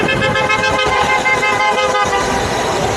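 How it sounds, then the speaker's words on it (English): Several car horns honk loudly and continuously over road traffic during an electric unicycle group ride, overlapping blasts with no break. "Are those good honks or bad honks?"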